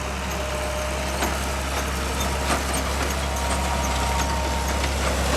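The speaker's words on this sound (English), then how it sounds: "That's an air planter." A tractor pulling an air planter across a field while seeding a corn maze gives a steady, continuous engine drone with a fan-like whoosh, unchanging and moderately loud throughout.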